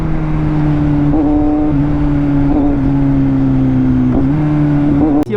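Kawasaki Z900 inline-four motorcycle engine idling and blipping, a steady low drone with a few quick throttle rises, close and loud with no talk over it.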